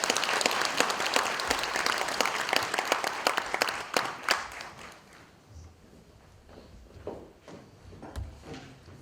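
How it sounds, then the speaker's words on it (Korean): Audience applause at a residents' redevelopment briefing held by Samsung C&T Raemian for the Gangchon 1-2 and Baekma 1-2 reconstruction, with a burst of dense, loud clapping that thins to scattered claps after a few seconds. "여러분 큰 박수 부탁드립니다"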